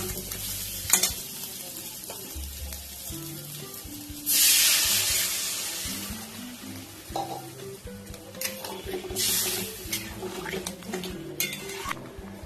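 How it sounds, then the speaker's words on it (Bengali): Water poured into frying crab curry (kakra kosha) sets off a sudden loud sizzle and hiss that slowly fades, with stirring and the scrape and clink of a utensil against the pan before and after. "দেখো এবার আমি এর মধ্যে জল দিয়ে দেবো।"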